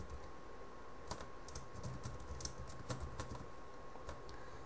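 Code is typed on a computer keyboard in quick, uneven bursts of light clicks and taps, close and fairly quiet, with no talking.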